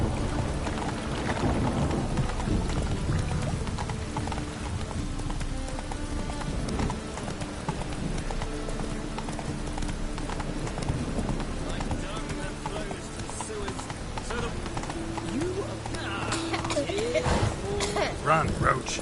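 Roach the horse gallops in The Witcher, hooves pounding a steady, fast clip-clop rhythm through the whole stretch while a voice talks over it and a light rain-like patter sits in the background.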